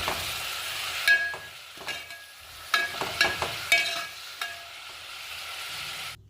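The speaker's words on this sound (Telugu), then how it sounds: "ఆనియన్స్ చూడండి మంచిగా వేగిపోయినాయి" Thinly sliced onions fry in hot oil with a gentle sizzle, punctuated by several sharp spatula scrapes and taps against the pan at irregular intervals, close and alone.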